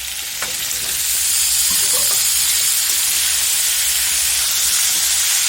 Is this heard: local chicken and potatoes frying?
yes